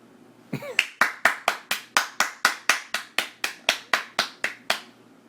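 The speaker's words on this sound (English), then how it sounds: "I don't think we should clap." A single person claps hands in an even, steady rhythm of about sixteen sharp, close claps spaced roughly a third of a second apart.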